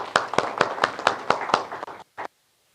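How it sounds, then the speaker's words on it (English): A handful of evenly spaced, sharp hand claps ring out in quick rhythm at a talk on making money, then stop, followed by a short gap and one last clap. "Give them a round of applause."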